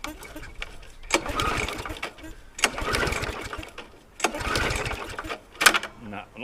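A small lawnmower engine whose fuel tank is not priming is pull-started about four times, each rasping recoil pull surging and dying away without the engine catching.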